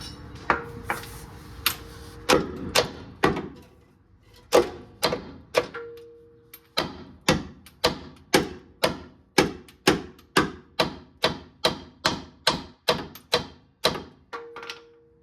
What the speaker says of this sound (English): Grab my hammer here.